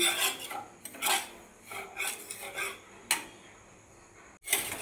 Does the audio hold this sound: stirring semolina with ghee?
yes